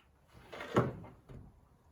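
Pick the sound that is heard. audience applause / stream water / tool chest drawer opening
tool chest drawer opening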